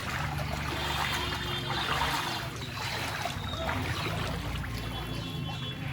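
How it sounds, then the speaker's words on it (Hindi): Floodwater of the Barak River in Silchar, Assam, swollen by heavy rain, rushes in a steady, dense wash of noise, close and continuous throughout with no pauses. "ये है बरक नदी"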